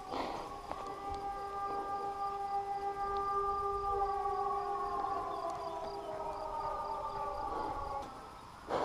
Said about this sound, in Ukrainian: У нас повітряна тривога